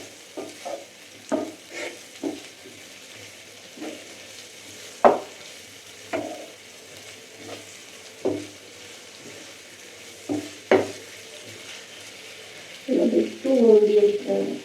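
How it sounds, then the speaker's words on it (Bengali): Capsicum being stirred in a frying pan, with a soft sizzle underneath and a series of distinct scraping strokes at an irregular pace, ending in a louder burst of clattering stirs. "ক্যাপসিকামটা একটু কাঁচা গন্ধটা যাওয়ার মতো একটু নেড়ে নেবো।"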